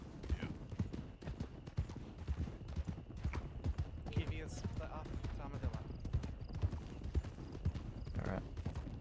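Horse hooves clip-clopping in a Western role-play video game, a steady rhythmic patter of several horses moving together, close and continuous, with someone talking over the hoofbeats.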